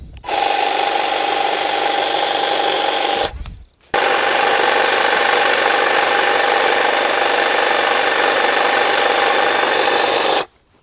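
A lightweight battery-powered hedge trimmer doing precise sculpting cuts on a hedge, a steady high whine running for several seconds, cutting out briefly, then resuming at the same loud, even pitch until stopping.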